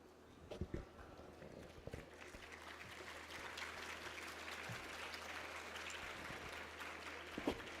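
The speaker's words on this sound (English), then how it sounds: "I understand why you are clapping" Audience at an education conclave clapping, starting with a few scattered claps and building into sustained, fairly soft applause in a hall with a low hum.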